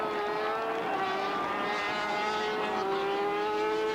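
Racing sidecar motorcycles screaming past on the Donington circuit at the 1988 British Grand Prix, loud high-revving engines rising and falling in pitch as they pass, continuous and alone without talk.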